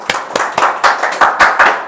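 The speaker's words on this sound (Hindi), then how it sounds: "तो हम ताली बजाएं परमेश्वर के लिए।" A church congregation at a Hindi worship service claps in unison, sharp rhythmic claps about four per second, close and loud, with no talking over them.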